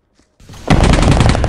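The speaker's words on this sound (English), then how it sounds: "I'm about to detonate a bunch of explosive barrels." Explosive barrels going off in Viscera Cleanup Detail: a short quiet lead-in, then a heavy close blast that rolls into a dense, loud, crackling roar.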